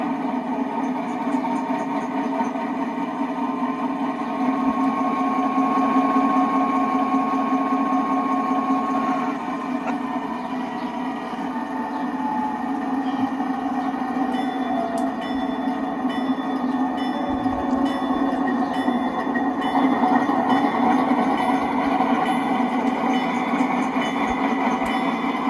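A 1-inch scale ATSF GP60M model locomotive runs with its electronic prime mover sound playing, a steady droning engine hum with a low rumble that holds at constant loudness and shifts pitch slightly partway through.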